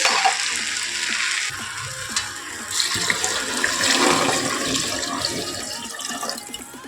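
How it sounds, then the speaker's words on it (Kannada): Water splashes and pours into a cooking pot for vegetable pulao, a running, bubbling gush with some clatter, continuous for several seconds. "ಇವಾಗ ನಾನು ನೀರು ಹಾಕೊತಾ ಇದ್ದೀನಿ"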